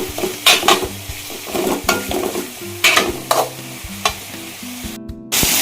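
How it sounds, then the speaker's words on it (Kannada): Malabar spinach (basale) frying in a pan for sambar, stirred with a utensil in repeated scraping strokes over a steady sizzle, close and fairly loud, with occasional clinks of metal against the pan. "ಚೆನ್ನಾಗಿ ಬೇಯಬೇಕು, ಆ ಥರ ಫ್ರೈ ಮಾಡ್ಕೊಳ್ಳಿ."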